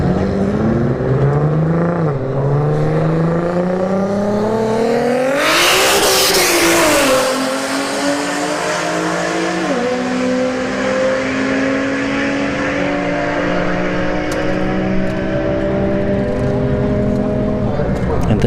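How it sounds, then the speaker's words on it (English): Turbocharged Infiniti G37 and Subaru BRZ launching side by side at a drag strip, engines revving hard through rising gear pulls with shift dips, a loud whoosh as they tear past, then a long fading wail under a commentator's voice. "We got the Turbo G37 in the left lane. Subaru BRZ in the right lane."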